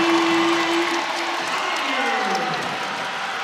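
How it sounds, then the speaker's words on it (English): Roaring crowd noise at a Florida State versus NC State women's basketball game, a loud, sustained wall of cheering and applause filling the arena, with a tonal horn or whistle line sliding beneath it. "that cheer was deafening."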